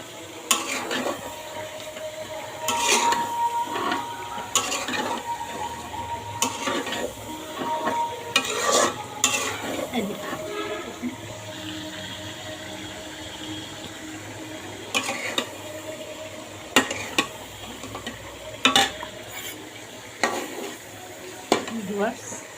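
Duck meat stir-fries in plenty of oil with dried chillies, giving a steady sizzle broken by sharp scrapes and clatters of a spatula against the pan, close up, with no talking.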